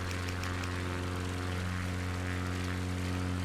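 A small propeller plane flies over the Queensland coast near Bowen, heard as a steady, even engine drone from inside the cabin, with no talking.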